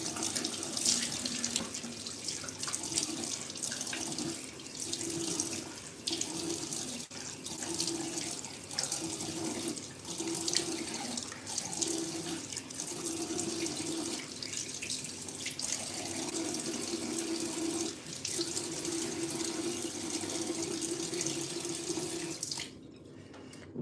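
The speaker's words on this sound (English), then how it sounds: "I'm just washing my face." Tap water runs steadily into a bathroom sink while someone washes their face, a continuous splashing hiss with small shifts as hands move through the stream, close by and with no voices.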